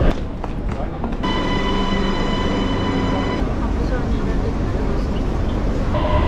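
An Ankara metro train carries passengers between a couple of stops, a loud steady rumble with a sustained whining tone that cuts off partway, continuous throughout with no pauses.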